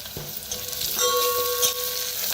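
A spice tempering of turmeric and coriander leaves sizzles steadily in a hot pan, loud and close, with a brief metallic ring from the utensil partway through.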